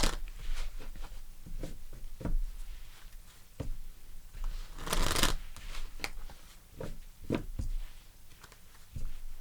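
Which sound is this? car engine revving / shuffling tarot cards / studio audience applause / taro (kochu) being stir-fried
shuffling tarot cards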